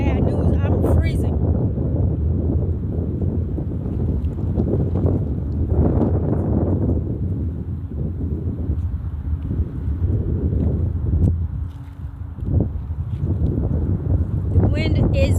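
Strong wind gusts roar across a microphone outdoors in a park, a constant low rumbling buffet that runs the whole time, with someone talking over it.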